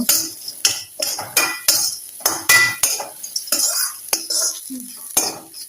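Ginger fries in a pan for a paneer vegetable korma while a metal spoon scrapes and clinks against the pan in quick repeated strokes, close and fairly loud over a faint sizzle, with no voices.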